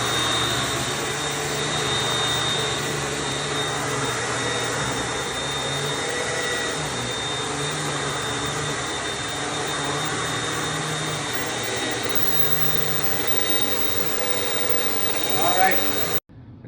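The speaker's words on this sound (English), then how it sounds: "now we're going to show vacuuming in an office or a cubicle type space" Steady, loud vacuum cleaner drone running continuously in an office cleaning demonstration, covering carpeted floor in a cubicle space, with no breaks until a brief drop at the very end.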